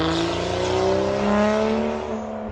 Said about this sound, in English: The car had a full custom exhaust system. It was stupidly loud.